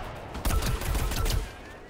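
Rapid gunfire in the shooter game Plants vs Zombies: Garden Warfare, playing the Law Pea: a dense, loud burst of repeated shots lasting about a second and a half, with no talk over it.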